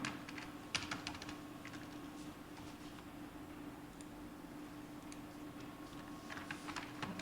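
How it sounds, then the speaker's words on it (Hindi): Steady typing on a computer keyboard while writing in MS Word, a continuous run of light, quick keystroke clicks at moderate distance over a low background hum, with no speech. "जैसे मैं लिखता हूँ राम,"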